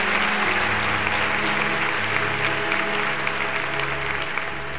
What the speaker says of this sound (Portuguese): Vamos aplaudi-la mais uma vez?